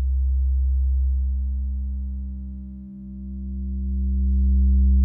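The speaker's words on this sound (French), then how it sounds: "Je remixe le wave folder." A steady low synthesizer drone through a wave folder hums continuously, its tone thinning and dipping briefly midway before swelling back to full strength.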